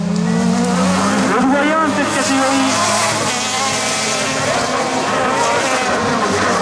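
A super buggy race car with a Nissan engine in a rear-drive chassis roars loudly past at high revs, its engine note rising and falling under continuous French commentary.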